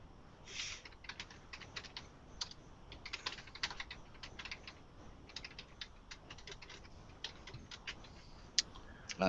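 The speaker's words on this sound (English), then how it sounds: "I heard you typing." Rapid, quiet clicking of someone typing on a computer keyboard, in uneven bursts of keystrokes with brief pauses, close by and otherwise silent.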